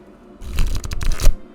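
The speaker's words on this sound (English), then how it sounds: "I find they shuffle really well." Tarot-sized oracle cards with a durable finish being shuffled by hand, a close, crisp burst of papery riffling and flicking that builds to a snappy finish, with no talking.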